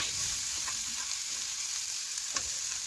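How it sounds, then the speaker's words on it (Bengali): Onions and green chillies fry in a pan with a close, steady sizzling hiss, broken by a few faint taps and scrapes of a spatula. "পেঁয়াজগুলো লাল লাল ভেজে নেওয়া পর্যন্ত আমি অপেক্ষা করে নিচ্ছি"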